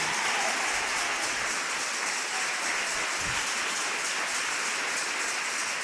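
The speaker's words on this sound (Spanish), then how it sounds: "batid las palmas" A congregation claps hands together at the start of a Shavuot service, a dense, continuous patter of many palms that sounds almost like rain, steady and even, with no voices over it.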